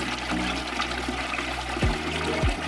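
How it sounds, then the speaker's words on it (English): Mountain spring runoff at a secluded spring, water flowing steadily and loudly close by, a continuous rushing wash with no voices. "this is mountain spring water, so this is mountain runoff"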